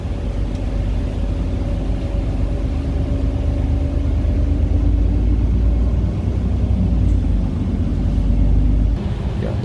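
Low rumbling drone of a Connexxion route 10 bus driving toward Hulst, heard from inside as a steady, loud engine and road noise with faint rattles throughout and no talking.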